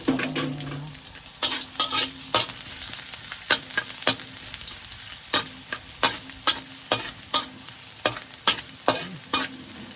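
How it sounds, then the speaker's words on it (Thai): Garlic sizzles in hot oil while being stir-fried for a Thai pork stir-fry, with a steady crackling hiss and frequent sharp scrapes and clacks of a spatula against the pan, no voices. "น้ำมันร้อนแล้วก็ใส่กระเทียมนะครับ"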